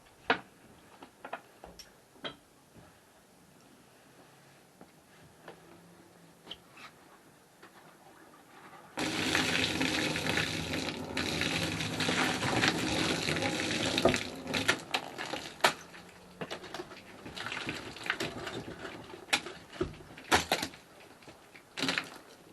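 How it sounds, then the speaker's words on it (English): Rainwater pouring down from a garden arch after rain, a loud steady splashing rush starting partway through after quieter dripping and ticking. "watch all the water that comes down from the rain"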